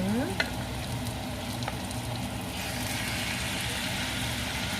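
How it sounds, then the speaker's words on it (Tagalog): Marinated chicken hits a hot pan and fries with a loud, steady sizzle that continues close and unbroken throughout, with a faint clatter at the start. "So, ako nang ibutang ang chicken nga akong gimarinate."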